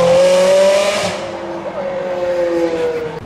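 A Ferrari 360 with a V8 engine revs hard on a street, a loud rising howl that holds and then eases into a steadier drone as the car moves along.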